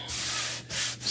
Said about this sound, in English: just rubbing it down really, really well.